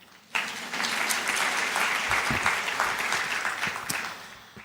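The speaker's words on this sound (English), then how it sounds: "You can clap." A conference audience at a business event breaks into applause that starts abruptly and holds steady and full, thinning slightly toward the end.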